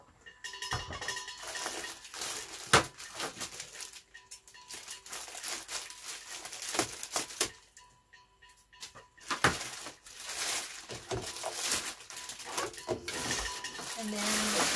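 A metal baking pan from a Sunbeam Nutrioven CO3000 convection oven is handled during unboxing, giving light clattering knocks and crinkling of packaging in irregular bursts, close and moderately loud.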